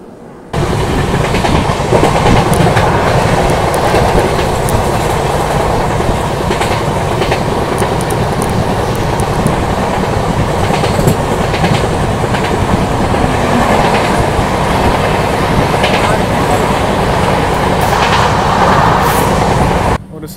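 Heard from on board, the Vivek Express in India runs at speed while overtaking another train. A loud, continuous rumble and rhythmic clickety-clack of the wheels on rails carries on steadily throughout.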